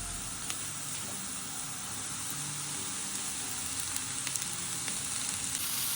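Spinach fries in a pan for an omelette with an even, close hiss of sizzling and a few faint crackles, without any talking.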